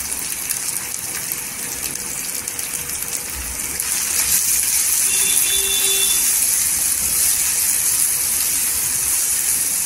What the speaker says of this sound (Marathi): एक 2 मिनिटं तेलावर परतून घ्यायची।